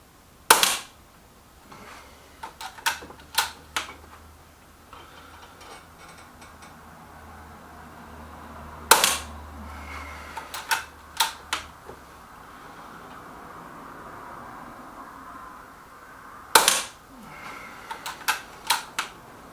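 A Weihrauch HW110 air rifle firing FX pellets, three sharp close shots spread far apart, each followed by a burst of small mechanical clicks and ticks from cycling the action, with no talking.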